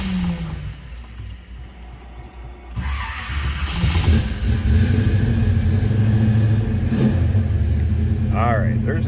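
Engine of a 1963 Chevrolet Nova convertible street rod cranking and catching, then settling into a steady rumbling idle close by with a voice heard briefly.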